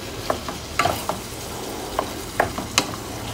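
Two pounds of ground turkey sizzles in a pan for chili beans while a utensil stirs it, giving a steady low fry with several sharp scraping clicks spaced irregularly, close and moderately loud, no voices.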